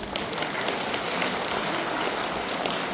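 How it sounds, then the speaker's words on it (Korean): A congregation at a Buddhist dharma service claps for a newlywed couple, a dense, even round of many hands that holds steady throughout, with no voices over it. "한 쌍의 신혼 부부를 위해서 축하의 박수를 드리겠습니다"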